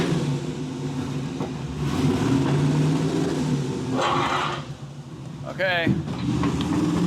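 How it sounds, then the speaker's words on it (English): An LS-swapped Lamborghini Diablo's engine drones steadily as it is put into reverse, with a rising rev partway through. A person speaks briefly over the engine noise. "All right, let's get it into reverse."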